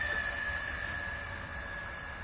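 An i Drone i8H quadcopter climbs from the floor at full throttle with a steady electric hum and thin high whine that stays level and fades slightly toward the end, with no talking.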